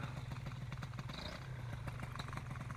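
Paramotor engine running after a rebuild, a steady fast clattering drone at moderate distance, held evenly throughout without any pause or talk.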